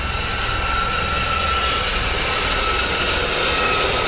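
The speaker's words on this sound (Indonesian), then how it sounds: "ada juga helikopter polisi udara" A police air unit helicopter flies overhead, a loud, steady engine and rotor roar filling the whole stretch without letup.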